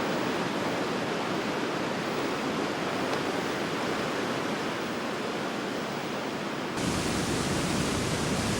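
A fast tributary of the Amazon at São Gabriel da Cachoeira rushes with a dense, unbroken roar of whitewater, loud and close, growing slightly harsher and brighter toward the end.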